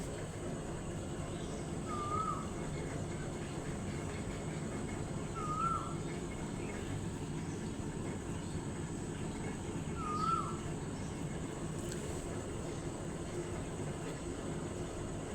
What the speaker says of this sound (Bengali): মিষ্টি কোকিলের ডাক শুনিয়ে দিলাম